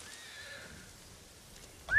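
A horse in the game Ghost of Tsushima gives a thin, drawn-out whinny early on amid a soft rainy hiss, followed near the end by a brief sharp chirp, all fairly faint with no talking.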